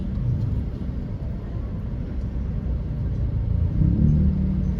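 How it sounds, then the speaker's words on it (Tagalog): A car passes by on a street, a steady low rumble that swells slightly toward the end, continuous and close with no talk over it. "Sasakyan pala."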